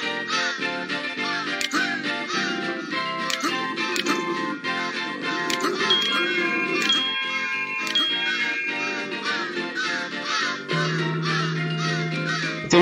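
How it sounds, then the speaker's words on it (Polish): Ravens caw repeatedly in the video game Santa Claus In Trouble, the calls mixed into dense, steady game music with faint ticking. "Widzicie już te kruki"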